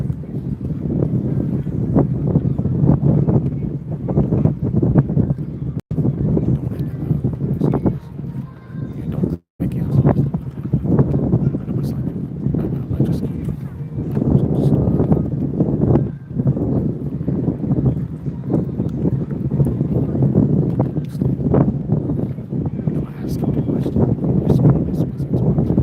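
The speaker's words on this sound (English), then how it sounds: "a lot of wind" Strong wind blows steadily outdoors in Hamilton, Bermuda, a loud continuous roar buffeting the microphone for the whole stretch, with brief gusty dips and a voice talking underneath.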